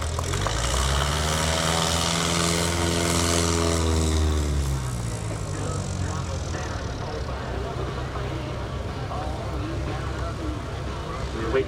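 A Piper Super Cub light aircraft comes in to land at a STOL competition at AirVenture 2018, its propeller engine droning loudly and steadily, while an announcer talks over it.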